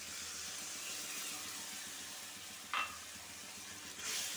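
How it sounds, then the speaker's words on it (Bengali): Spice paste frying with sour yogurt in a pan, a steady soft sizzle and hiss with a brief louder spatter near the end, no voices. "টক দইটা দিয়ে একটু ভালো করে কষাই নিচ্ছি।"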